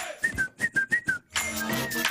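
A person whistles a short run of about six quick rising and falling notes, clear and close, then a brief pause before a longer sustained whistle blends with other voices.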